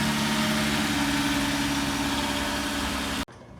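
A salvage Nissan GTR engine idles steadily and close by with a smooth, even hum and faint vibration, running alone before cutting off abruptly near the end.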